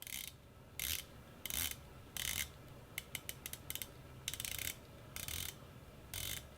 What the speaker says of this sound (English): This actually has 120 click unidirectional rotating bezel.